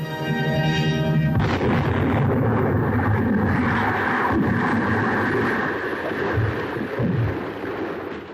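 American troops blowing up the Nazi Party emblem: a loud, heavy explosion bursts in early, followed by a long, rumbling roar and debris-like noise that slowly fades, with no talking.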